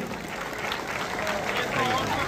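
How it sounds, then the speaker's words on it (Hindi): Applause from the crowd at a pigeon racing prize-giving ceremony in Karachi, steady clapping with a buzz of voices mixed through it, sustained across the whole moment. "भरपूर तालियां होनी चाहिए इस प्लेयर के लिए।"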